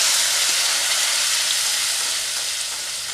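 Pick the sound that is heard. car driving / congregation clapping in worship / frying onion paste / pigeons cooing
frying onion paste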